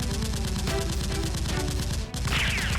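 Toy Nerf guns fire foam darts in a rapid, loud fusillade of close clicks and pops during a mock battle, continuous with a brief break near the end and no clear talk.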